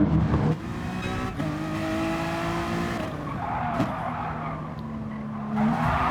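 In a GT racing video game on the Blue Moon infield circuit, a car spins out with tires squealing and skidding while engines drone and shift around it, moderately loud with no voices.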